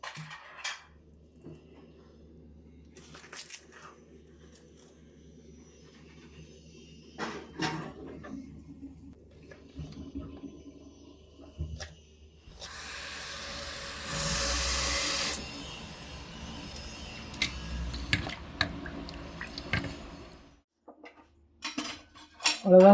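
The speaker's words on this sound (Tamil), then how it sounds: "வெங்காயம் கட் பண்ண போகிறேங்க" Knife chopping onions on a board for biryani, a run of close, irregular taps and clatters with short pauses and a brief hissing stretch midway, no talk.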